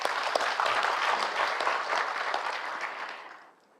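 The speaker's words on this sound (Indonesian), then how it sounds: "Mohon tepuk tangan untuk para promotor." Applause at a doctoral promotion ceremony for the promoters: steady, dense clapping from the audience that holds for about three seconds, then fades out toward the end.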